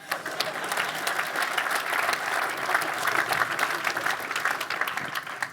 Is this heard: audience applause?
yes